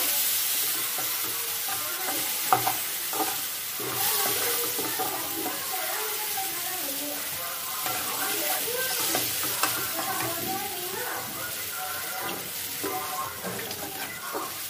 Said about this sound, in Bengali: এবার মশলাগুলো ভালো করে ভেজে নেব। একটু হালকা জল দিয়ে মশলাগুলো নাড়াচাড়া করে নেব।